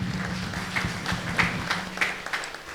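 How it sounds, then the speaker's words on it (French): A Pentecost congregation at CREC Strasbourg claps along in church, a steady series of rhythmic hand claps with a low hum beneath, moderately close. "Clap for Jesus. Applaudis pour Dieu."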